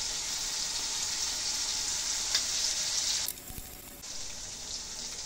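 Ingredients for chicken fried rice fry with ginger and garlic paste in a pan, a loud steady sizzle that dips briefly near the end before resuming, with no talk.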